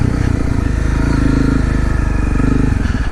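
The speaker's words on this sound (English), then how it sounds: "That's a pretty big tractor." A large logging tractor with a cutter works in the woods, its diesel engine a loud, steady, close rumble that throbs evenly throughout with no voices.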